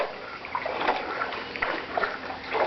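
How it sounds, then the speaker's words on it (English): Water draining through partly clogged pool deck drains, a steady close trickling and gurgling with small splashes and sloshes and no voices. "it takes time for the water to drain out because these drains haven't been cleaned before very well"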